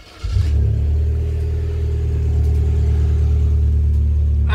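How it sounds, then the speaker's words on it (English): A Vauxhall Corsa B engine cranks and catches into a loud, steady low rumble at close range, running continuously with no voices. "Let's just crank her over."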